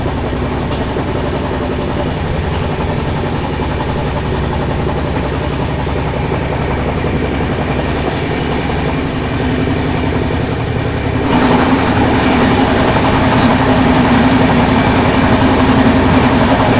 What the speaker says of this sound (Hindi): वो देखो वो आ रही सामने से स्वर्ण शताब्दी एक्सप्रेस।